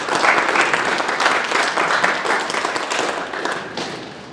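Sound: audience applause welcoming a conference speaker

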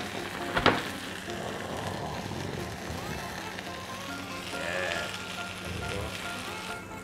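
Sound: oyster omelette rice frying in pork lard

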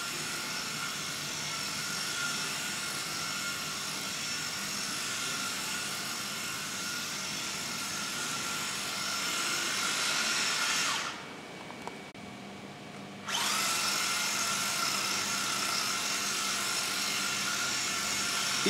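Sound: Mini-Z AWD RC car running while drifting

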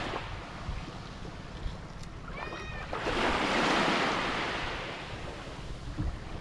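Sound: sea waves breaking on the shore

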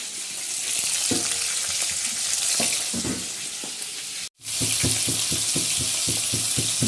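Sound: radish frying in a pan

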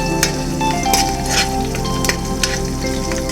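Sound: green chilies and curry leaves sizzling while frying in a pan

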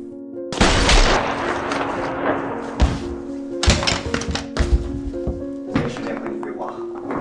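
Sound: gunshots

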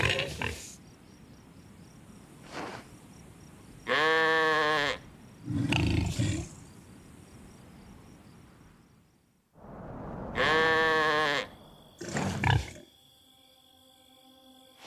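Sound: sheep bleating

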